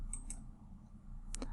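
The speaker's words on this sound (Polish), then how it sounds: "dwukrotnie klikamy lewym przyciskiem myszy i wybieramy kolejny widok" A computer mouse double-clicks twice in quick succession near the start, with another pair of small sharp clicks near the end, all faint and close over a low steady hum.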